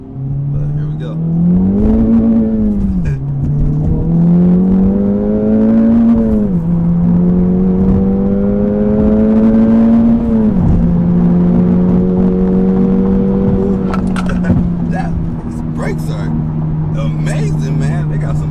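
An Acura Integra Type S engine revs hard up a highway on-ramp, climbing through several rising pulls with shifts between them, loud and close from inside the car, with talk over it.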